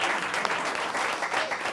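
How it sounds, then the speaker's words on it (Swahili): Audience applause, a short dense spell of clapping that holds at an even level throughout. "kwanza hebu nipigieni makofi"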